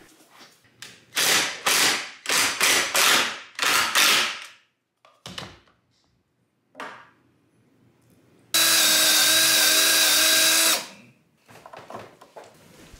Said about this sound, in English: To secure the posts, I would be using 6 long screws and 2 lag bolts.